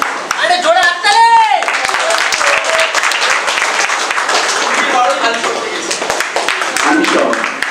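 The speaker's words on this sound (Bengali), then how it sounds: "আরে জোরে হাততালি।" A crowd at a large gathering at a Bhootnath Baba temple, held before the Amarnath Yatra, claps loudly in a dense, steady roar that runs the whole time, with voices and cheers mixed in near the start.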